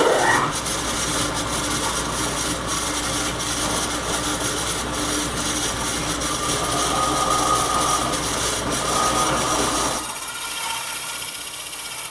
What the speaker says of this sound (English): I'm just going to take a 3-inch hole saw and cut one out of 1/2-inch